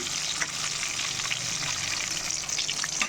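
Chicken 65 deep-frying in oil, a dense, steady bubbling sizzle with fine crackles throughout, close and fairly loud, with no talking.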